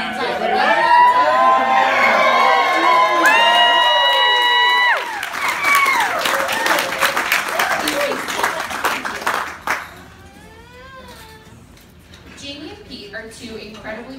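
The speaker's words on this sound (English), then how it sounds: "That clap was proof. I am proud of all of you for that loud cheer." Wedding guests cheer and whoop loudly, with high excited voices over a burst of clapping that swells and then tapers off, followed by scattered shouts and chatter from the crowd.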